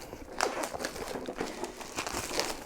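Cardboard and plastic packaging on a Horus Heresy Primarch miniature box, Corvus Corax of the Raven Guard, being peeled open up close, a quiet run of crinkling and tearing with small crackles and no talking.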